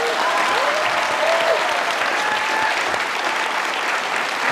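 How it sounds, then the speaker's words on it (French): Audience applause for a filmmaker, steady clapping from a modest crowd that stays even and unbroken from start to finish, with faint whistle-like tones drifting over it. "J'aimerais quand même tout le monde qu'on applaudisse Phil Rouleau qui a fait ce film-là."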